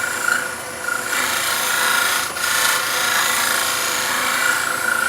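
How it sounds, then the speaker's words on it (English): A Colwin Way signature skew chisel scrapes a spinning offset wooden pendant on a lathe, held close on the tool rest, making a steady, loud, rasping hum with only slight dips. "I'm going to go for the skew, just as a very slight tidy up, just a nice scrape"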